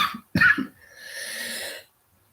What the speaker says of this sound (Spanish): La tos.